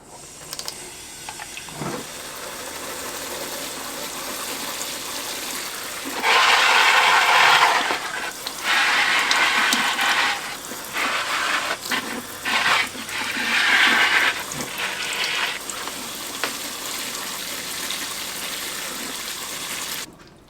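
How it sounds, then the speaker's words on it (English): Tap water running into a sink to soak a potted alocasia, several loud rushing bursts of flow with handling clatter between them, close and without talk. "I'm actually going to take this over to the sink and give it a really nice thorough soak."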